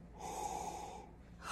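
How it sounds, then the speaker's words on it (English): A single close, quiet sniff as someone smells handmade salted caramel cold process soap, a short breathy inhale lasting about a second. "let me give a sniff here"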